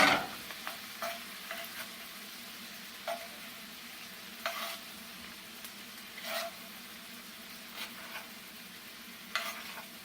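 Parsley being stirred into a buttery wine and garlic sauce in a pan beside seared scallops and lobster tail, a low steady sizzle broken by scattered spoon scrapes and clinks.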